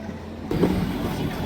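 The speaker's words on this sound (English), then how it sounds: "That's the train to take us back." A train in South Korea rumbles and hums close by, a low steady engine drone with a louder surge partway through, no talking.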